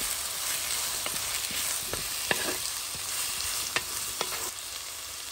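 Chopped onion and green chillies sizzle steadily in a pan, with a soft crackling bed broken by a few sharp pops and the occasional stir, close up and with no talking.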